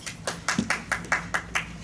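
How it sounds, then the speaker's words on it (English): Clapping at a Rotary Club meeting in Hickory: a small group claps in a steady rhythm of about eight crisp, evenly spaced claps, close and moderately loud. "You got a clap over there."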